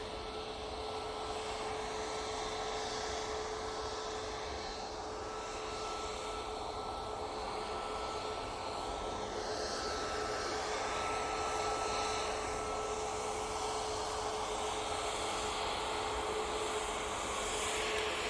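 A Qatar Airways airliner taxiing at Manchester Airport, a steady, distant jet engine roar and hiss with a faint whine, continuous and unchanging throughout with no talk.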